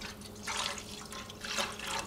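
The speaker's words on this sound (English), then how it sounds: "Okay, so we just add milk to the saucepan." Milk poured into a saucepan, a faint liquid splashing and trickling in two short bursts over a low background hum, with no talk.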